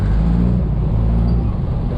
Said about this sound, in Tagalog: yan ang traffic, nag-uumpisa na